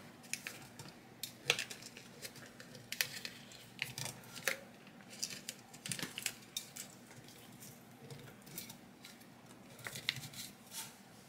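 Scissors snip slits into a sublimation wrap around a mason jar, giving a series of quiet, sharp clicks and crisp cuts at irregular intervals, close by, over a faint steady background hum.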